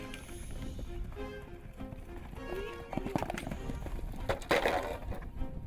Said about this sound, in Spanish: Estos caballos son unos caballos que prácticamente están brutos del todo.